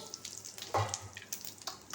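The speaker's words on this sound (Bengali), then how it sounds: "কাঁচকলা আলু একসঙ্গে ভাজছি।" Oil crackles and sizzles around green banana and potato frying in a pan, with a brief louder splash of frying partway through and no talking.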